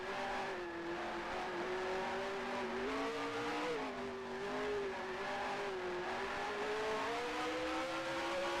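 A race car engine in a sim racing game holds a steady high drone, its pitch wobbling up and down as revs rise and fall through the laps, continuous and loud with no speech.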